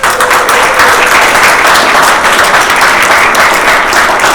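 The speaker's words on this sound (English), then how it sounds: "So let's give them all applause." Loud, sustained applause from a large crowd at a playwrights' awards ceremony, dense and steady clapping throughout.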